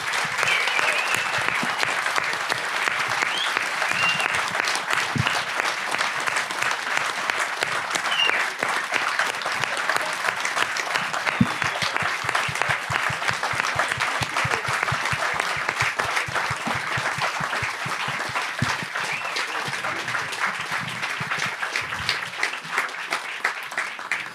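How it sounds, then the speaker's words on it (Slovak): Sustained audience applause fills a hall for over twenty seconds, a dense, even patter of many hands clapping at steady loudness with faint voices mixed in. "tento potlesk použijeme aj nakoniec"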